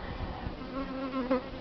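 Robber honeybees buzz around an open Buckfast beehive in August, a close, steady insect drone with wingbeat tones that shift as individual bees pass near the hive.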